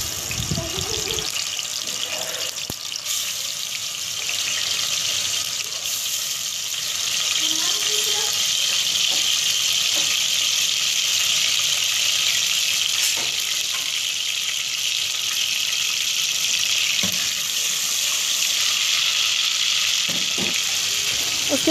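Garlic ginger paste frying in oil in a pot, a steady broad hiss and sizzle that holds close and even throughout, with a few light clinks and stirring touches and no talk.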